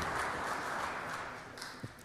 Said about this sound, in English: Would you all give Travis an applause?